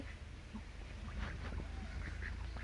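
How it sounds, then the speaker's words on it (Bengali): Ducks quack faintly at a distance amid outdoor background noise, a few scattered calls. "তো এই যে দেখেন হাঁসগুলো অনেক সুন্দরভাবে, মানে অনেক দিন পর অনেক পানি খাইছে এই জায়গায়"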